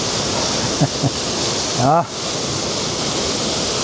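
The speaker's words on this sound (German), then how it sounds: "ich stehe hier wieder direkt am Wasserfall" Trusetal waterfall rushing as a constant broadband roar of falling water close by, with someone speaking briefly over it.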